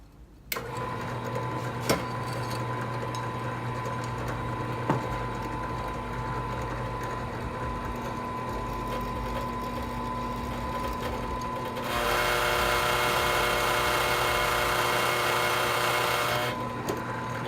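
A drill running steadily through steel with a worn, dull bit, a continuous mechanical whir that turns louder and harsher toward the end before easing off, with no talking.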